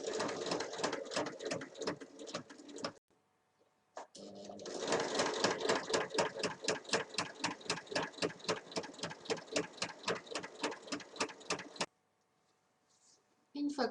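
Close, loud sewing machine stitching a tote bag, rapid regular needle chatter in two long bursts with a short pause between, then stopping into quiet near the end.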